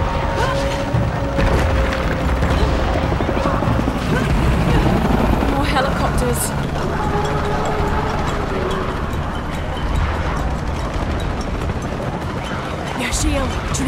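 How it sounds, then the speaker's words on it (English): Helicopters in the Shadow of the Tomb Raider video game thrum with a choppy rotor pulse under game effects and radio-style voices, alongside mechanical clanks and a few sharp booms. "Helicopters."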